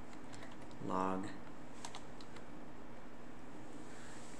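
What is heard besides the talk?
typing on a computer keyboard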